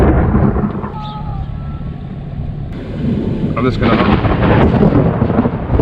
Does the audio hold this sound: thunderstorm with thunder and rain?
yes